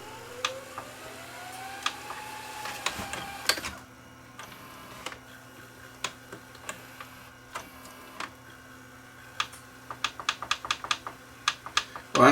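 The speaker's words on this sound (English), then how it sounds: "The machine just started to go into rewind by itself." A videotape machine with a suspected mode switch problem winding on its own, a steady mechanical hum beneath irregular clicks and ticks from the transport, with a brief louder clatter near the start and a quicker run of clicks toward the end.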